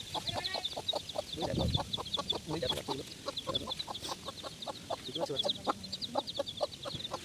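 A hen clucks in soft repeated bursts while chicks peep rapidly and continuously in the background, close and fairly quiet.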